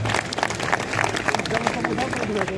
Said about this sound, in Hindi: आप लोग तालियां बजाकर उनका इस्तकबाल करते हैं